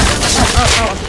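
Gunfire in a video game, a brief loud burst of rapid shots lasting about a second, close and dense.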